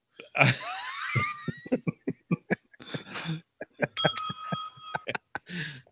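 A bright bell rings with a quick burst of dings, then again a few seconds later, amid scattered short voice sounds and breaths nearby.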